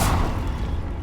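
Confringo fire spell blast in Hogwarts Legacy, a dense low rumbling boom that fills the whole moment, loud and close with a rolling thud beneath.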